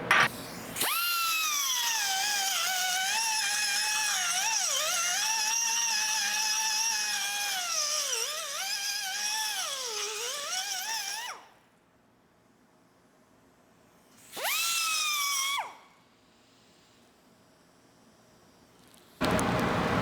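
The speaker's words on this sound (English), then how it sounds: "after you get the 1-inch hole drilled, you also want to just deburr it real quick" A power tool deburrs a freshly drilled 1-inch hole for a stainless steel O2 bung, giving a high whining drone that wavers in pitch for about ten seconds, then two shorter bursts after quiet pauses.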